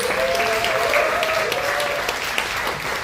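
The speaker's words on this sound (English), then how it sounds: "Let's give them another round of applause." Audience applause at an education town hall, a steady dense wash of clapping that holds evenly for about three seconds with faint tonal hum underneath.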